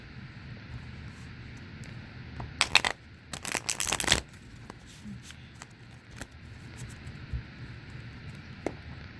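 Tarot cards are shuffled in a couple of quick riffling bursts, fairly close, against a quiet background with faint scattered handling noises.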